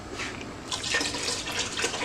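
A quart of water runs and splashes into a pot, a soft continuous pour, moderately close and fairly quiet.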